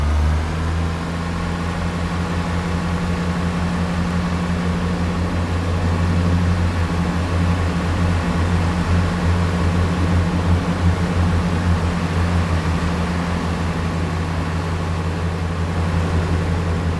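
A Great Western Express train in Train Sim World 3 pulls away from Twyford station. A loud, steady low engine drone holds throughout, its pitch shifting slightly as it gathers speed, with no talking.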